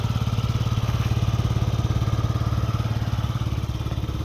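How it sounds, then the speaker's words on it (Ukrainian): A Yamaha Jog SA36 fuel-injected scooter engine idles steadily with a rapid, even putter, close and continuous throughout. "Ідеальна робота двигуна."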